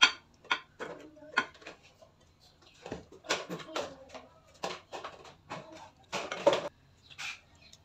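Rui fish curry is served with short, sharp clinks and taps of dishes and utensils in quick irregular bursts, close and fairly faint, with brief pauses between.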